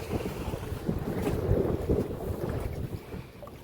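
A boat out on the sea off Shivrajpur Beach near Dwarka, with a steady low rumble of engine and water under heavy wind buffeting on the microphone; no talking.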